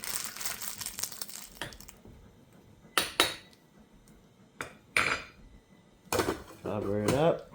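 Ramen noodles stirred in a pot outdoors, with bursts of metal scraping and clinking against the pot at intervals between quieter stretches, ending in a louder rattling stir.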